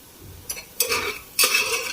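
Onion and garlic sauté in an oil-filled kadhai with a bright, hissing sizzle that swells in bursts as a spoon stirs and scrapes the pan, without any voices.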